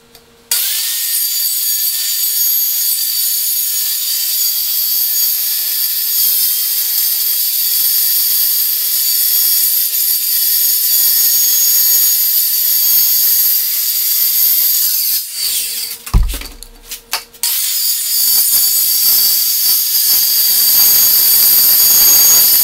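A Maslow CNC router spins at a loud, steady, high-pitched whine as it cuts a temporary sled out of sheet stock. The whine stops briefly with a clunk near the end and then resumes.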